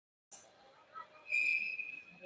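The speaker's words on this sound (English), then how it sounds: "We'll have a whistle and redo it." A referee's whistle sounds at an ice hockey game, a sustained shrill tone of about a second, heard at a moderate distance through crowd noise and arena ambience.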